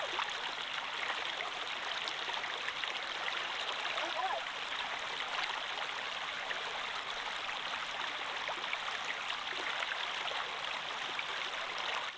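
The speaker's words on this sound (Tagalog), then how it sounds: "Medyo tumataas yung ilog." A rising river rushes steadily in the late afternoon, a continuous bright hiss of flowing water that stays even and close throughout, with faint voices now and then.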